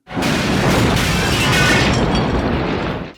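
A loud, sustained film explosion from RoboCop roars for about three seconds, a dense rumbling blast with crackling debris that fades out abruptly at the end.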